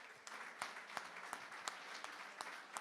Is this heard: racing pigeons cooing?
no